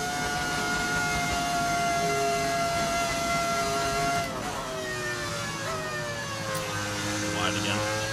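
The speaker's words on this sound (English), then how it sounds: "Car sounds so good?" Racing car engine from the F1 25 video game, a sustained high-pitched whine that holds steady, then drops and shifts as it changes gear, loud and continuous with no talk over it.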